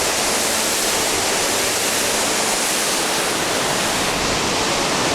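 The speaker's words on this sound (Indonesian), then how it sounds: "Ini dia air terjun Efrata." Efrata waterfall in Samosir, about 20 meters high, heard up close as a loud, dense, unbroken roar of crashing water filling the whole stretch.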